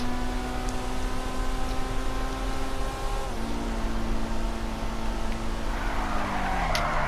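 A Pfister Growler sports car in GTA Online drives along with a droning engine whose pitch climbs, drops at a gear shift, then rises again, with tire squeal near the end and no talking.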